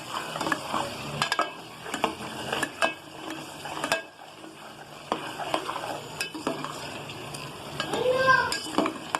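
Chicken liver is sautéed again in a pan over low flame, with a soft sizzle beneath irregular scraping and clinking stirring strokes, close and moderately quiet.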